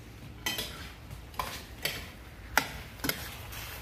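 A spoon stirs apples in a pot on a home stove for Southern apple fried pies, giving several separate clinks and scrapes spaced about half a second apart. The sounds are close and fairly quiet, with no talking.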